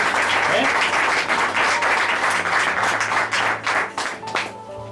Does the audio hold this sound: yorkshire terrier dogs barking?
no